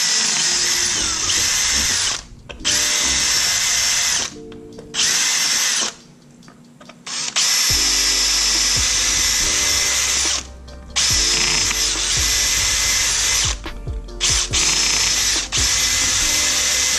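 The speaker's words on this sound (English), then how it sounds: "Alright, so I've got those drilled out." Power drill bores holes in an Arrma Kraton v3 RC car shock tower, a loud high whine running in several long bursts with short pauses and brief stops between holes.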